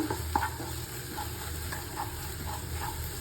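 Carrot, egg and cooked rice being mixed with salt, turmeric and chili powder in a pan, a soft constant sizzle under light scraping stir strokes that recur every half second or so, close and moderately quiet.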